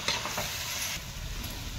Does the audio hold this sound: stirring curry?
yes